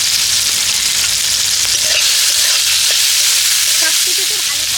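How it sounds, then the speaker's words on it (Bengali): Chopped green chilli, tomato and a handful of peanuts fry in a pan, making a loud, steady hiss of sizzling oil close by, with occasional soft stirring knocks. "এগুলোকে হালকা করে ভেজে নেব। এবার দিয়ে দিচ্ছি 1 মুঠো চিনা বাদাম।"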